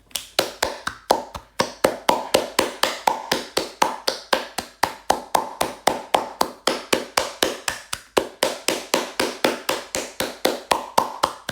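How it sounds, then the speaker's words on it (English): Steady clapping from a small group fills the whole stretch, each clap sharp and close, falling into a fast, even rhythm with no voices over it. "You hear this? It's applause."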